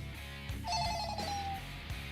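A telephone rings during a radio show, giving a couple of short, faint electronic trilling bursts against quiet room tone.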